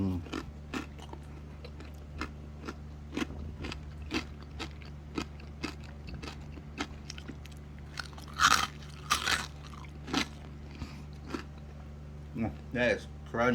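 Oven-roasted crispy pork belly, lechon kawali, is bitten and chewed close up, giving a run of sharp, loud crunches and crackles, with quiet talk in the background.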